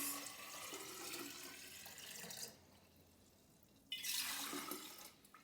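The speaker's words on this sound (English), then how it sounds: "So the first thing we'll do is put water in our jugs." Tap water runs into jugs in two bursts, a steady rushing pour that stops for about a second and a half before a louder splash resumes, close by with no talk.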